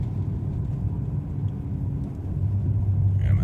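A 2010 Ferrari California engine hums at a low, steady rumble after a downshift to sixth gear, heard from inside the car at a continuous level that swells slightly toward the end.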